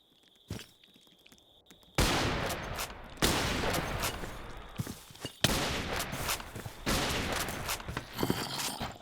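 Automated turret in modded Minecraft firing at enemies: bursts of rapid, loud shots begin suddenly and keep going in dense waves, with a brief gap between volleys.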